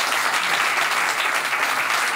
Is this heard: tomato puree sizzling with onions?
no